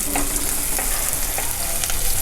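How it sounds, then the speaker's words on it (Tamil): Onion and a couple of sprigs of curry leaves sauté in a pan for fenugreek kuzhambu, giving a steady, loud, dense sizzle with occasional stirring scrapes throughout and no talking. "வெங்காயம் நல்லா ப்ரௌன் ஆகிற வரைக்கும் வதக்கிக்கோங்க."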